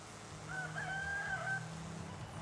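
A rooster-crow car horn in the racing game Forza Horizon 5 sounds once over low engine rumble, a clear crowing call of about a second, moderately loud in the game mix.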